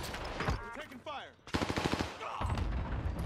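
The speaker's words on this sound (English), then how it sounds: "We're taking fire." Bursts of automatic gunfire and single shots in the video game Call of Duty Warzone, loud and close, with a brief quieter gap midway and players talking over the shooting.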